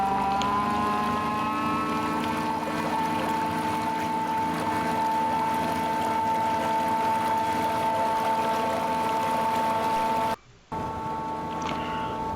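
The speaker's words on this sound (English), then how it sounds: "I am now going to try the engine on full power." A Haswing Protruar 5hp electric outboard on a Viko S21 sailing boat runs at full power on a river, making a steady whine with constant water noise throughout. There is a brief dropout near the end.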